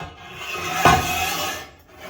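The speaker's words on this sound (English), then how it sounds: "if you undo these two knobs, you can slide the fence out" Rip fence on a Harvey HW110S table saw slid outward after loosening its two knobs, a brief scraping rub with a sharp knock near the start, fairly close and steady, with no talk.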